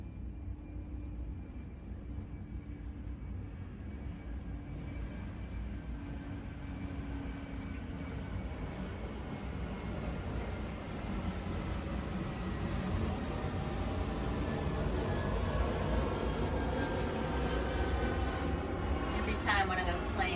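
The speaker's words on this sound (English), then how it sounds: "Every time one of those planes flies over my house, I wonder where people are going." A plane passing over a house produces a steady broad roar that slowly swells and shifts pitch as it travels overhead, fairly faint and distant, with a soft voice talking beneath it.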